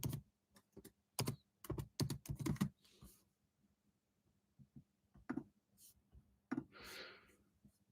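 Clusters of quick keyboard clicks in bursts, with pauses between runs of keystrokes, close and fairly quiet over a low steady hum.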